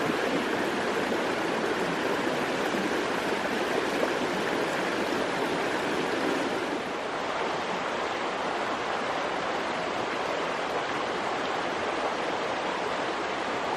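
A river at a campsite along the Hoh River trail rushes steadily, a loud, continuous broadband flow that holds unbroken for the whole stretch, close by and with no voices over it.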